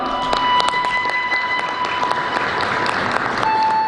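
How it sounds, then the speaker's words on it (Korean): An audience at a staged event applauds as a calligraphy artist walks on, a loud, close, sustained burst of many hands clapping with a steady tone ringing underneath. "박수로 맞이해 주십시오."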